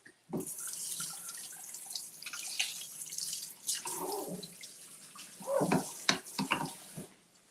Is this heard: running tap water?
yes